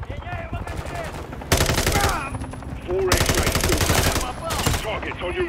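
Close-quarters automatic gunfire in Modern Warfare III, loud rapid bursts lasting a second or more each, broken by short gaps filled with game noise and a voice talking.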